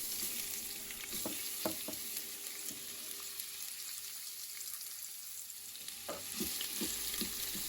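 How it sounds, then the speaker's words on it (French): Onions frying in a pan on a steam-setting cooker, a soft steady sizzle with occasional clinks and stirring scrapes, fairly quiet and close. "Là, je mets en version steam pour faire rissoler des oignons."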